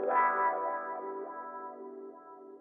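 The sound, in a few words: guitar loop with reverb and stereo widening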